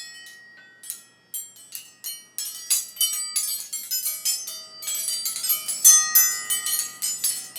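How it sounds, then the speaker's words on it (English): Homemade wind chime built from kitchen items rings out in a series of bright, metallic tinkling strikes that overlap and build into a dense, shimmering cascade, close and fairly loud with no talking. "I made a wind chime with stuff I found in the kitchen."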